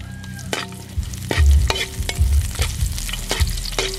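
Garlic frying in hot cooking oil in a stir-fry pan gives a steady crackling sizzle, broken by several sharp clanks and scrapes of a utensil stirring against the pan, close and fairly loud.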